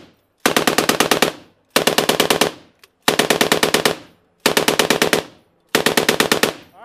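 Five long bursts of machine gun fire go off during a firefight with the Taliban. Each is a rapid string of loud, close shots, separated by short gaps.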